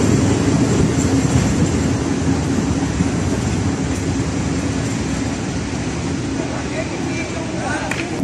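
A train rolls along Budapest's last non-electrified railway line, heard from inside as a loud, steady rumble with continuous clatter and a low drone throughout.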